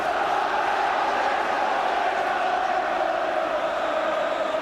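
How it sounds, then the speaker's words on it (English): A large football crowd roars steadily at a Manchester City versus Charlton Athletic match in 1984–85, with a loud, continuous wash of massed voices and no breaks. "But you can hear what the crowd feel about it."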